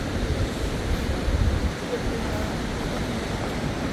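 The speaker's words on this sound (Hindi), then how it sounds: "तो दोस्तों यार फाइनली इस वक्त हैं मारगला वाटरफॉल पे" Steady broadband rush of the Margalla waterfall and a flowing river outdoors, with cool wind, continuous and fairly loud throughout with no break.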